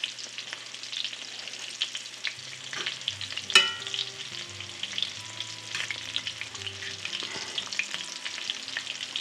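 Sweet pepper rings frying in hot oil until golden brown, a continuous close bubbling sizzle with light spatters and one sharp clatter partway through, no voices.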